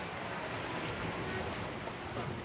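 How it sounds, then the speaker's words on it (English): Ocean surf in The Long Dark, a faint, even wash of waves and wind that holds steady throughout with no voices. "Got the lonely ocean."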